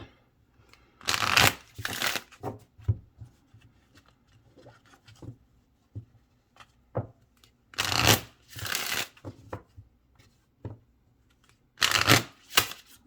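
Oracle cards are shuffled and laid out in several brisk, papery bursts of riffling and rubbing, separated by quieter handling, taps and pauses. Nobody speaks.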